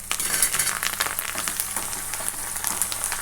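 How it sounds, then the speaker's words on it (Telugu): Curry leaves crackling in hot oil for a tempering, a loud, close, continuous sizzle full of rapid sputtering pops. "చిటపట సౌండ్ వస్తుంది కరివేపాకు."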